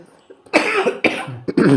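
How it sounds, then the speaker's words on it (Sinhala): Close by, one person gives a short run of three or four harsh coughs in quick succession. "කැස්සක් දෙනවා"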